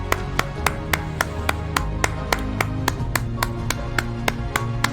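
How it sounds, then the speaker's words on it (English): One person claps steadily in an even, quick rhythm over background music, each clap sharp and close. "The long applause for all the boys."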